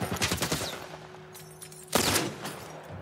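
Gunfire in The Last of Us Part I, a burst of shots early on and another loud blast near the end, with quieter game ambience between.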